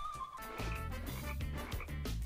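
Frogs croaking in a goldfish video game: dense, overlapping rhythmic croaks throughout, loud and close, with no talking.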